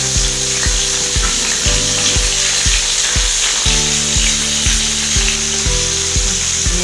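Zinger burger chicken frying over a low flame, a steady loud sizzle of hot oil running throughout with regular low thumping pulses from a nearby motor or tool underneath, no voices.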